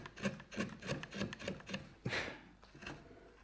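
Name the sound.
hand sanding a wood carving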